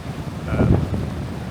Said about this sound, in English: it's still lumpy out here and very windy